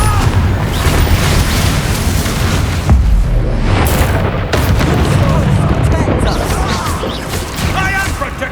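Confringo blasting-spell explosions in the Hogwarts Legacy video game: loud, rumbling booms and crashes pile up almost continuously, with voices sometimes heard among them.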